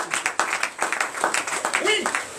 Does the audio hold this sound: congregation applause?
yes